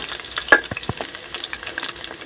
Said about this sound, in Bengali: পকোড়াগুলো আমি এইভাবে লাল লাল করে ভেজে নিয়েছি